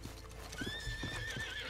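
A horse in Red Dead Online lets out a single rising, quavering whinny. It is fairly quiet and sits over soft background ambience.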